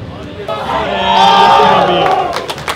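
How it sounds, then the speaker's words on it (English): A crowd cheers and whoops at a Super Smash Bros. tournament, Pound 2019. The roar swells toward the middle and stays loud and dense, with sharp shouts poking through near the end. "We got people cheering for Mango"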